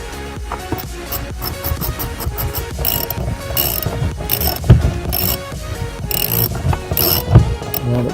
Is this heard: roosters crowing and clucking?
no